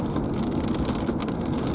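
Steady rain and wind noise heard from inside a car with a back window down during a windstorm, a continuous broadband wash with soft patters, fairly loud and close, no talk.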